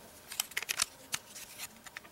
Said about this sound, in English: Love the scissors. Strong, sharp scissors.